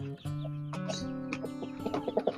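Several chickens cluck and murmur close by in a steady, overlapping stream of short calls, with a low hum underneath.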